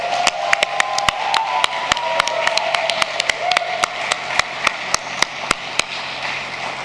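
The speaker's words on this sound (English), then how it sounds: "A final applause, please." An audience at an awards ceremony claps steadily, with many sharp individual hand claps standing out over a continuous bed of applause.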